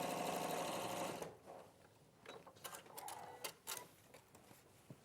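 A domestic sewing machine stitching fabric runs steadily for about a second, then stops, leaving faint clicks and handling noises.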